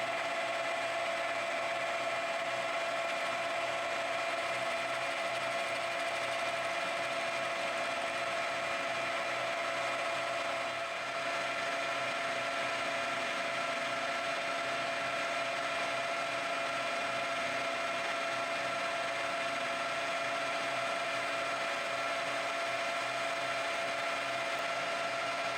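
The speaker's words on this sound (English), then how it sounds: "I'll square up the end of the block to give me a reference surface to work from." A milling machine squares up the end of a metal block, giving a steady, even mechanical whir with a constant high tonal hum, continuous and moderately quiet for the whole stretch.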